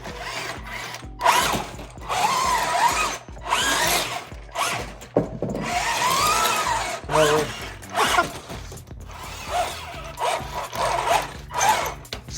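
Eachine EAT06 RC Ripsaw military toy vehicle with its electric motors whirring in uneven bursts as it drives and turns in place, the whine rising and falling close by over several seconds.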